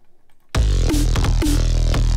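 Thick, sustained Reese bass in Bitwig with punchy snare hits at a steady rhythm; the bass briefly ducks under each snare from sidechain compression, loud and alone after a quiet lead-in.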